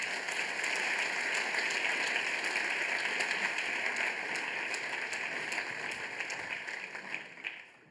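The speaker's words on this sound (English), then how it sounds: "may I ask the students who are already here to stand up so that we can give a special applause to you" Conference audience applauding students in Berlin, a continuous, rain-like wash of many clapping hands heard from a moderate distance, steady for several seconds before tapering off at the end.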